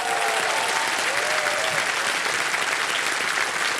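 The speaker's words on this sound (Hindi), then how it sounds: "ताली बज जाए इनके लिए" Studio audience on the KBC quiz show applauds a contestant, a dense, steady clapping from a crowd that fills the whole stretch evenly at close range, with no talking over it.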